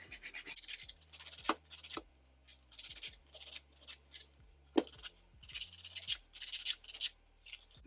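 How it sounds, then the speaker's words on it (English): Nail file rubbing at the corners of a builder gel manicure, short close scratchy strokes in repeated bursts with brief pauses between them. "I could just file it a little bit."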